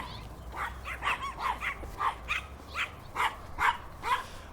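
A very small dog yaps repeatedly, about ten short, high-pitched barks spaced in an uneven but persistent rhythm, moderately loud and somewhat distant against faint background noise.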